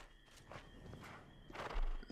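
Horses in the video game Oblivion, with soft hoof clops and shuffling steps near a city gate, low and continuous against faint ambient noise.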